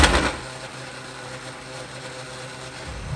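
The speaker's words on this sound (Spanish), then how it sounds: "Y vamos a licuar todo perfectamente sin líquido" A blender whirs steadily as it purees chile, tomato, salt and garlic into salsa with no liquid. A sharp burst at the start gives way to an even motor hum that swells again at the end.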